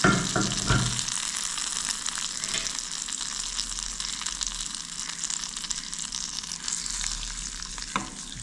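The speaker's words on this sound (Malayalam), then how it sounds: "എല്ലാം കൂടി നന്നായിട്ടൊന്ന് ഇളക്കി കൊടുക്കും." A raw green mango curry is stirred in a pan just off the flame, giving a continuous soft sizzle with wet scraping and stirring sounds, close and steady, opening with a louder clatter of added tempering.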